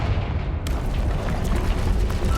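A Confringo spell goes off in Hogwarts Legacy, a dense, sustained rumbling blast that fills the whole clip with low booming energy and sharpens slightly after a brief opening swell.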